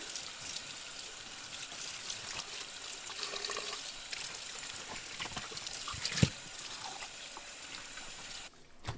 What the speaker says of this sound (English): you're going to go ahead and rinse it with some cold water